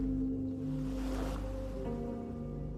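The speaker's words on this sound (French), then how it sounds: "Regarde les petites vagues venir et aller avec cette régularité tranquille." Gentle ocean waves swell softly once mid-clip and then recede, faint and distant beneath sustained calm musical tones.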